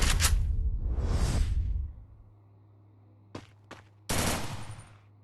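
MP40 submachine gun fire in a video game: a couple of loud sustained bursts, then two quick single shots and another burst, each ringing out alone against near silence.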